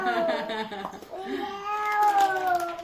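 Drawn-out, wavering meows repeat up close and fairly loud for about three seconds, with a person's voice imitating a cat mixed in among them.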